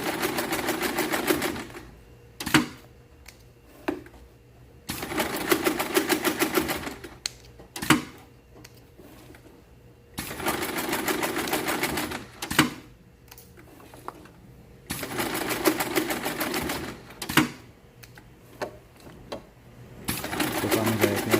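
A sewing machine stitches a net in repeated bursts of rapid mechanical clatter lasting a couple of seconds each, separated by quieter pauses with faint clicks, close and fairly soft.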